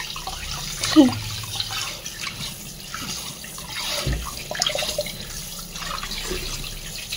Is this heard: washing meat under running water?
yes